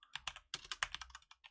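Rapid typing on a computer keyboard while entering bot command code, with a quick irregular run of crisp close key clicks and a short pause midway, no voices.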